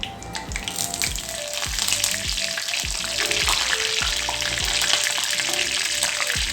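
Curry leaves crackle and spit as they hit hot sesame oil for a quail curry, a loud, bright, continuous sizzle with low knocks and clatter of the pan underneath and no voices.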